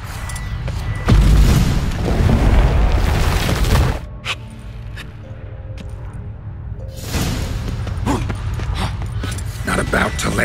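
Stalagmites are blasted apart in The Witcher 3 with loud rumbling booms. A quieter stretch follows before another heavy, sustained crash, and voices are mixed in.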